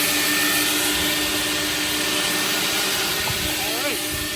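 A coin-operated car wash vacuum runs with a loud, steady whooshing roar and hiss of suction, continuous from the start and easing slightly near the end.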